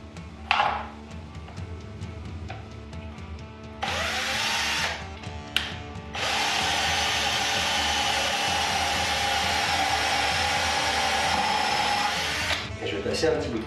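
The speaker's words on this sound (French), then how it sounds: "Donc je vais percer un petit trou d'ici à ici." A small hole is drilled into the body of an Ibanez RG guitar with a whining power drill, heard as a short burst and then a long steady run close by. Before the drilling, someone talks quietly.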